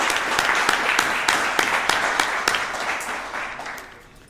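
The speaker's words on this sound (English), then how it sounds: "let's give everyone a round of applause" Applause from a Rotary club meeting audience, many hands clapping steadily and fairly loud for several seconds before tapering off toward the end.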